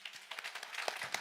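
Soft, brief clapping from a church quiz audience, a faint patter of hands lasting only a moment, thin and somewhat distant.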